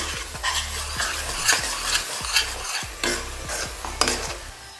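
A spoon scrapes and stirs a poppy seed panjiri mixture in a pan, giving repeated close, gritty strokes about every half second over a faint steady sizzle, with no voices.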